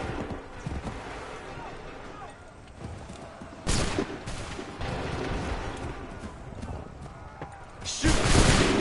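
Musket volleys in Assassin's Creed 3 burst out in loud broadband blasts, one near the middle and another at the end, over battlefield clatter with shouted commands.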